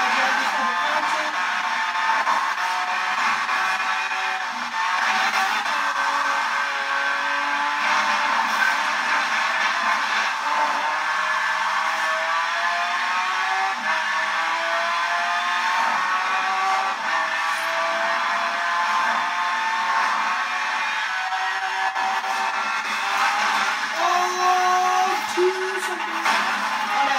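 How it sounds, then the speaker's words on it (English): A Chevy Camaro racing along a highway in the Forza Horizon 4 video game, its engine a sustained, rising and falling high-revving whine with shifting pitch as it accelerates and changes gear, loud and continuous with occasional tire squeal. "This is me driving a Camaro on Horizon 4."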